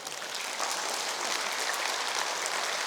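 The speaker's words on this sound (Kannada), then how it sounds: "ಹೆಣ್ಮಕ್ಳು ಜೋರ ಚಪ್ಪಾಳೆ ತಟ್ಟಬೇಕು." Women in the audience at a yoga health camp clap loudly, producing a continuous wash of applause that holds steady throughout without any talking.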